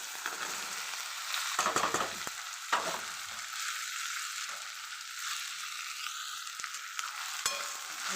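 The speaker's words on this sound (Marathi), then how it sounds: "टोमॅटो त्याला पण छान परतून घेणार आहे आता टाकून घेणार आहे मी भेंडी" Okra and tomatoes fry in a pan with a steady, close sizzle, broken by a few scraping stirs and light clinks, no voices present.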